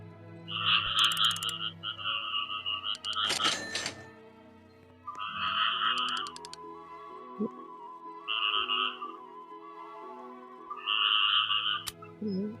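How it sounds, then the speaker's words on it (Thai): Cartoonish frogs croak in Roblox Grow a Garden, repeated two-tone calls in short bursts over a soft game hum, broken by a brief noisy clatter and a thunk. "กบหยุดร้องก่อนได้ไหม"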